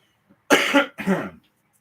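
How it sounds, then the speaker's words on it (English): Two rough throat-clearing bursts in quick succession, close and fairly loud, with a brief pause between them and silence around. "Let me clear my throat"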